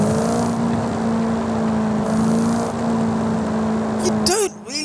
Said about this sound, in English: when you're driving a Maserati Gran Turismo like I'm driving right now at low RPMs